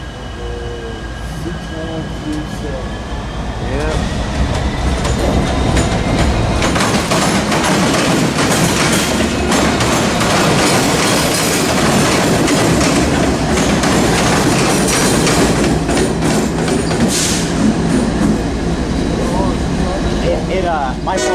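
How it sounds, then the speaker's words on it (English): Heavy freight locomotives rumble past up close and loud over a diamond crossing at Selma Station, with a steady roar, rattling wheels and metallic squeals that build and hold. "we got E26's engines making a power move through Selma"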